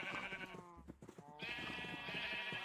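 Sheep in the Minecraft video game bleat in a couple of loud, wavering cries over steady game music, with a short pause between them.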